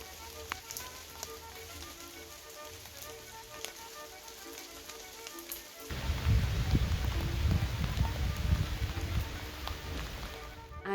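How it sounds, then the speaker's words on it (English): Steady rain patters through woodland, a soft hiss that swells sharply halfway through into a heavier, louder downpour with a deep rumbling undertone. "the beautiful sounds of the rain in the woods"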